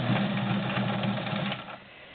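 A Morse Super Dial straight stitch sewing machine runs steadily through five layers of upholstery fabric, a close, loud rapid mechanical whir that slows and fades near the end.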